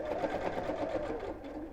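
Sewing machine stitching an oven glove seam around a curve, a steady fast whirring run of stitches held close and continuous for the whole stretch.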